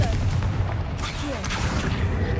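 A Confringo fire spell exploding in the video game Hogwarts Legacy, heard as a loud, rumbling blast with bursts and pops amid game noise, with speech over it.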